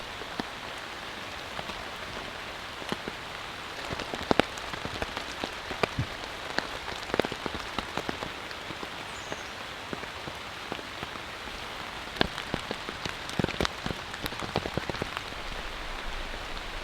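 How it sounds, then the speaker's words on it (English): Rain patters on a Combat 2 tent, a steady hiss of drops with scattered louder taps striking the fabric close by, with no voices. "it has stopped raining for a minute"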